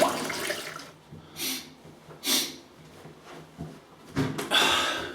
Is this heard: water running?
yes